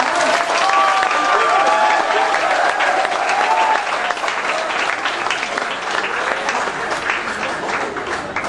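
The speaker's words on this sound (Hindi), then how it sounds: "बार जोर से तालियां तो बजाइए यार।" An audience at a school Teachers' Day celebration applauds loudly and continuously. The dense clapping stays alone and steady throughout, with faint whistles or cheers above it early on.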